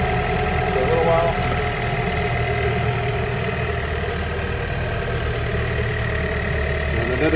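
A Mini R56 LCI engine idles steadily at close range, giving a continuous low rumble and hum that holds even throughout with no revving.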